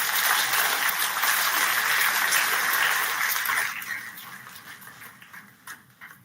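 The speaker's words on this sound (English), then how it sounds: "I request all of us to please give him a huge round of applause." A conference audience claps for a speaker, with a sustained round of applause that holds steady, then thins out and fades to a few scattered claps near the end.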